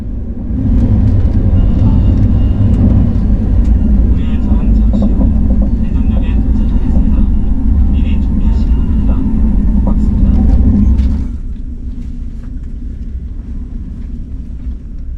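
A KTX high-speed train runs steadily with a loud, continuous low rumble and hum that drops to a quieter drone near the end, passing Daejeon marshalling yard toward Daejeon Station.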